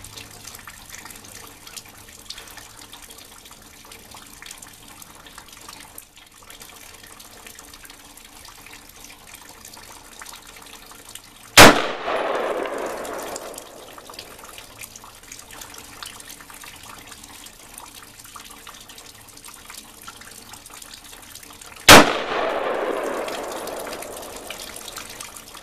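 Two sharp, loud gunshots ring out at an outdoor shooting range about ten seconds apart, each followed by a short echoing decay over a steady background hiss.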